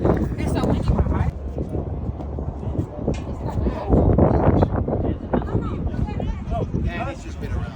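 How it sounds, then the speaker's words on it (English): Strong outdoor wind roars and buffets the microphone in a constant loud rumble while people talk through it. "It's so windy, right?"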